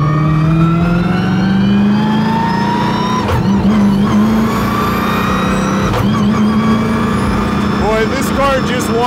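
A 1003 whp twin-turbo, supercharged Mustang accelerates hard, its engine note climbing in pitch and snapping through two quick no-lift gear shifts with barely any drop in revs, loud and close throughout.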